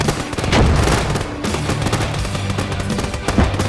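Machine guns on a bridge rattle in a battle in the Army Men War of Worlds video game, dense overlapping bursts of rapid fire with dull booms, loud and close.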